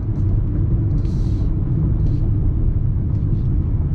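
A 2020 Hyundai Kona Electric accelerates uphill out of bends, heard from inside as a steady low road and tyre rumble with a faint high whine, loud and even throughout with no talk.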